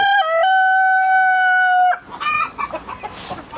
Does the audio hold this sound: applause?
no